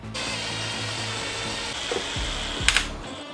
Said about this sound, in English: and drill all the way through